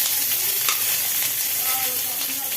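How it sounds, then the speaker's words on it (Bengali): Pointed gourd frying in hot oil in a home kitchen: a dense, even sizzle and spatter heard up close, with faint stirring knocks, continuous and loud, no voices. "পটলগুলো ভাজা হোক"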